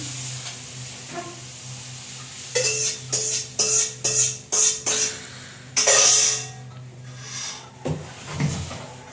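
A utensil serves cooked haleem from a pot with a run of scraping, knocking clatters in irregular bursts, loud and close, with a steady low hum beneath.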